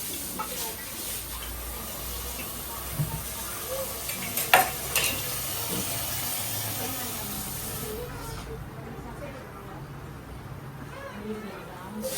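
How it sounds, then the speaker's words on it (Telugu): Onions and green chillies fry in a pan, giving a close, continuous sizzle with scraping stirring strokes throughout, and the sizzle softens somewhat in the last few seconds. "ఉల్లిపాయలు పచ్చిమిరపకాయలు వేసుకున్నాను"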